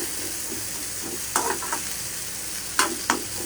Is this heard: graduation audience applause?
no